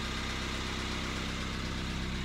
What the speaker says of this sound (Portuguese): Depois de muito, muito, muito quebrar a cabeça, a ventoinha voltou a funcionar.